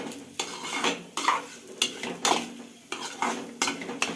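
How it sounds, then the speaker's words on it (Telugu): Ridge gourd peels being stir-fried on low heat in a pan, with a utensil scraping and clinking against the metal in repeated strokes about every half second over a soft sizzle, close and moderately loud, with no talking. "ఆయిల్లో పెట్టుకోకుండా సిమ్లో పెట్టి వేయించుకోవాలి"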